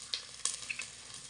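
Green chilies sauté in hot oil with chopped ginger and garlic for a sardine curry, a faint, soft sizzle with a few small pops heard close and quiet.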